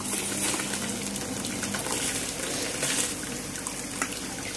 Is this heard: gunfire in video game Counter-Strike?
no